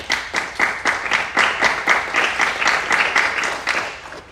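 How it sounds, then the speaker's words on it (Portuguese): Women in a congregation listening to a priest's homily for young World Youth Day pilgrims clap in unison, a steady, rhythmic run of sharp claps of about three per second, fairly close and full. "Mulheres, batem palmas."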